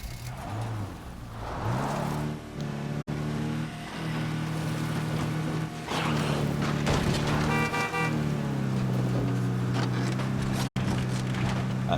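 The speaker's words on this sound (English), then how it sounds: "I had to try to lead it away by honking the horn" A car horn honks repeatedly in the State of Decay 2 video game, loud long blasts over a steady engine hum and revving, several toots spaced across the stretch.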